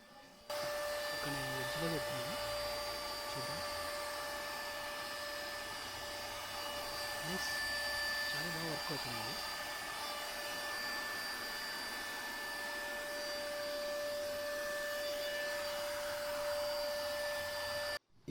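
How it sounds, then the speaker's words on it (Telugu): FYA wireless handheld vacuum cleaner with a brush nozzle running, a steady high-pitched whine and airflow hum throughout, with someone talking over it. "నేను ఇక్కడ బ్రష్ పెట్టాను కదా, బ్రష్ నాజిల్, దాంతో చాలా ఎఫెక్టివ్గా మొత్తం ఉన్న డస్ట్ అంతా అందులోకి సక్ చేస్తుంది"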